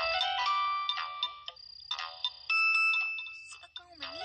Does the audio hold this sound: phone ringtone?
yes